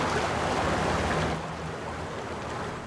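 A small winter creek runs through snow, giving a steady, soft broadband rush of flowing water, slightly louder at first and then settling to a quieter, even flow with no voices.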